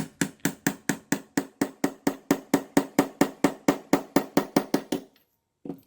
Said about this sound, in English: we're gonna use a punch and we're gonna lightly tap it out of its corresponding hole with a little 2-ounce hammer